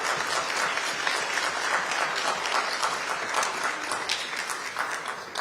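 An audience at a live Oakland mayoral debate claps and cheers steadily and loudly for several seconds as a candidate takes the stage, a dense continuous wash of applause.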